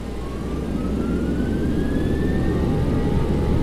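Twin jet engines of a Boeing 737-900ER spool up to takeoff power in the X-Plane 11 flight simulator, a loud steady roar with a rising whine climbing in pitch and no talking over it.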